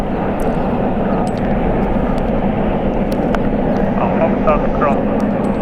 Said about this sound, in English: Japan Airlines Flight 1 will depart to Tokyo Haneda. It's a Boeing 777-300ER